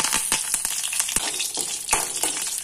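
Curry leaves and dried red chillies hit hot coconut oil that already holds popping mustard seeds, making loud, close, crackling sizzles and sharp spits throughout, with no voices.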